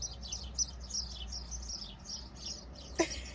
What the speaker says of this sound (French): Écoutez le chant des oiseaux.